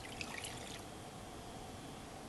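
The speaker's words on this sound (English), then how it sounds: "add water into a pan" Water is poured into a pan for the first agar-agar layer of a Malaysian cendol pudding: a brief splashing pour settles into a soft, quiet trickle in a kitchen.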